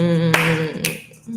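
A sharp finger snap followed by a clap, two quick bright hits over a sustained tone, with no speech.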